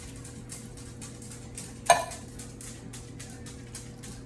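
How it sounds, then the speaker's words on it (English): Canned green beans drop into a pot with a single sharp clatter, over a steady low rumble of boiling water. "this has started boiling, so I will add my beans"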